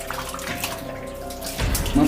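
Water runs steadily through a pipe into a well in a rural setting, a continuous rushing flow that swells louder near the end.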